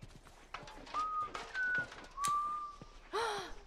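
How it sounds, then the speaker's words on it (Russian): Character whistling in The Last of Us, a few thin tonal whistles in separate notes across a few seconds, with faint background game sounds and a breathy gasp near the end. "Я могу свистеть."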